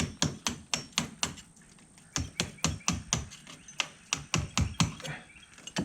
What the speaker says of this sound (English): This is a framer's heavy hammer